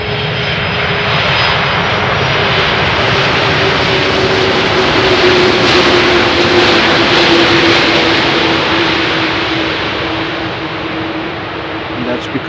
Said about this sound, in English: we can hear the engine noises good without any hindrance from wind